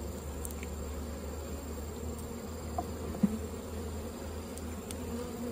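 Bees buzz steadily around a hive after relocation, a dense low drone filling the whole stretch with a few brief louder passes close by.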